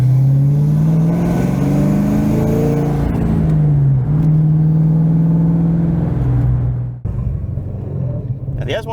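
Ford Mustang S197 V8 revving in a run of strong, loud pulls with rising and falling pitch, a close, deep rumble that drops off sharply near the end before continuing more quietly.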